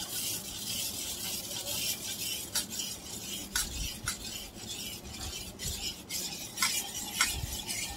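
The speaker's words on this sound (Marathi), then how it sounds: "आता याला पण आपण मिक्स करूया" A spoon scrapes and clinks steadily against a bowl while chocolate cake batter with a teaspoon of vinegar is mixed, close and fairly quiet, in a home kitchen.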